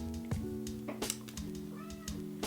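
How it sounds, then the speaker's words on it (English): A pet cat named Winston meows repeatedly in a series of close, tonal calls with harmonic stretches, a steady low hum underneath and no talking. "If you hear purring in the background, it's my cat."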